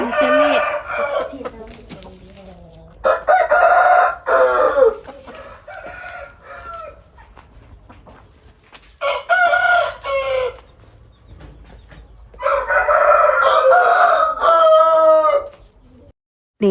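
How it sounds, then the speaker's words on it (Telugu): Roosters on a farm crow one after another, loud and close, each long call followed by a short pause and then the next, with faint clucking from other fowl in between. "నేనేంటి మీరు కూడా వినాలిగా గోల సో అసలు ఒక్కడి తర్వాత ఒకటి అరుస్తూనే ఉన్నాయి"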